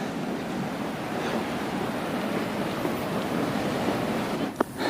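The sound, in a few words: ocean waves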